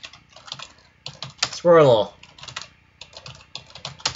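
Rapid clattering keystrokes on a computer keyboard typed blindfolded, in quick uneven clusters close to the microphone, broken once by a short spoken word.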